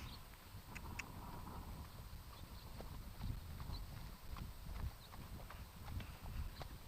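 Horse hooves clip-clop steadily on the ground during a ride, a faint, rhythmic series of soft thuds with light tack jingles and no talk.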